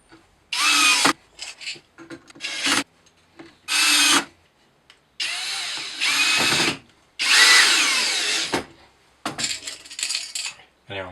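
A power drill drives screws into a wooden piano stool under repair, giving several loud whirring bursts of a second or two each, separated by pauses with faint clinks of handling.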